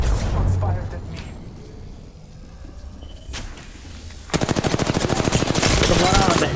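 Gunfire in Apex Legends breaks out as a dense rapid burst of automatic shots in the second half, after quieter game ambience with scattered thuds and a few brief shots; game voice lines sound during the clip.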